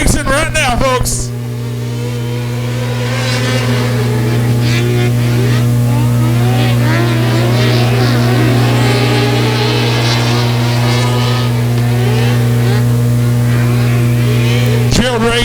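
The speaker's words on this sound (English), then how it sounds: "Down the back straightaway come the 600cc Sprint Car Series." 600cc sprint cars race down the back straightaway at Buffalo Creek Speedway, a loud continuous engine roar with rising and falling revs throughout, under an announcer's voice.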